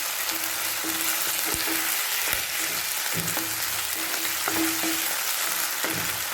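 Chicken liver frying in a pan for a masala, a steady, close sizzle of hot oil punctuated by several sharp pops and knocks of the pan or spoon.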